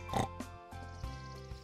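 A cartoonish pig in Scribblenauts Unlimited gives a few quick, close oinks and snorts over a bright, sustained game music backdrop.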